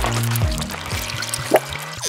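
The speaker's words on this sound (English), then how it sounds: "First, I pour it into the two separate plastic cups I made." Nutella mixture poured from a container into two plastic cups in a home kitchen, a soft liquid pour with faint drips and a small clink near the end, no talking.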